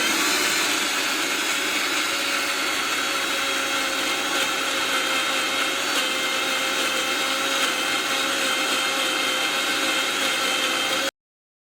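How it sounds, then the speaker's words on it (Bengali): A mixer grinder whirs loudly and steadily while grinding ginger and garlic into a paste, a continuous high-pitched motor whine that runs without a break for about eleven seconds and then cuts off abruptly. "এখানে আমি মিক্সার গ্রাইন্ডে আদা ও রসুনের পেস্টটি করে নেব।"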